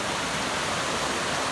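Frigid stream water rushing steadily past a crossing point on a long-distance hike, a loud, dense, close-up wash of flowing water with no pauses and no voices.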